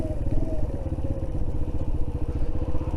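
A motorcycle engine runs in a low, steady, throbbing pulse with a slight clatter while slowing on engine braking, close and fairly loud with no talk.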